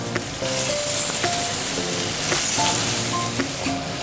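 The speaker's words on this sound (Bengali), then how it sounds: "সবজিটা ভেজে নিই।" Vegetables frying in hot oil in a wok give a loud, close, hissing sizzle that swells and steadies with light crackles, with no one speaking.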